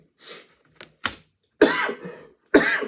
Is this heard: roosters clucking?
no